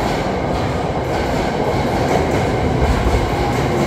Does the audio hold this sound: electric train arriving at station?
yes